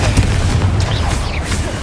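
Confringo fire spell blast in Hogwarts Legacy, a dense booming explosion with rumbling low end filling the moment, steady and loud, with faint whooshing magical sweeps layered over it.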